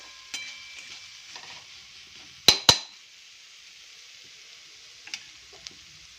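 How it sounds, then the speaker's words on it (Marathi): Green peas and crushed chili thecha sauté in a pan with a faint, steady sizzle. A pair of sharp metallic clinks sounds midway, followed later by a few softer taps. "व्यवस्थित दोन्ही एक मिनिटभर छान असं परतून घेतलं"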